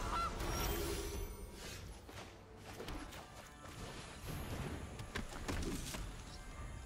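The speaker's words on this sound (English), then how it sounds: "there we see the goose" A cartoonish goose honks in the MTG Arena card game, a few loud nasal honks over a busy layer of game effects and background sound.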